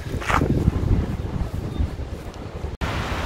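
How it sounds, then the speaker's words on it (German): Outdoor wind blows steadily and noisily across the microphone, a rough, gusty rush that continues throughout with a brief dropout near the end. "Auch hier pfeift der Wind."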